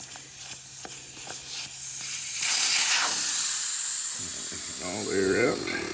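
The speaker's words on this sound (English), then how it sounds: "So I've just got to pull the valve stem, let the air out" Air rushes out of a tire valve stem with the core pulled, a bright close hiss that surges loud and then tapers, following some small tool clicks and ending with brief chatter from a voice.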